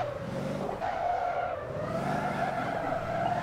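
A turbocharged V8 limousine drifting in Motor Town, its tires squealing continuously under a loud revving engine that stays close and steady throughout.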